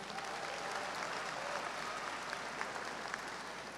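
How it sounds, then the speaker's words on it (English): Steady applause from a large audience at a university commencement ceremony, a dense wash of clapping that holds evenly throughout. "Can you give them a round of applause, please?"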